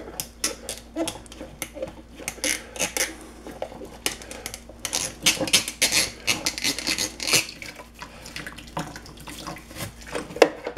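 Soapy water splashes and sloshes as a hummingbird feeder is scrubbed at a sink, with irregular bursts of running and swishing water close by and no talking.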